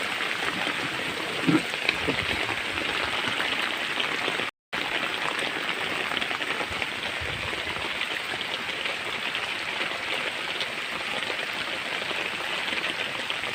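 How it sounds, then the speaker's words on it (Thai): Steady rain pours down continuously, a dense broadband hiss of drops on surfaces with no voices, briefly cutting out for a moment partway through. "อดเลยครับฝนวันนี้"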